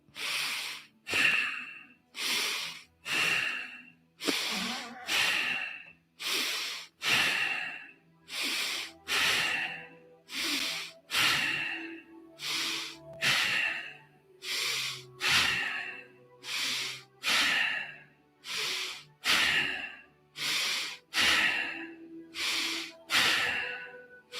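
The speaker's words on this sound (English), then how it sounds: "30 rounds of bow breathing, in through the nostrils, out through the nostrils, and go with the flow." Rapid bow breathing through the nostrils, about thirty forceful in-and-out breaths in a steady, even rhythm, close and loud with no talking.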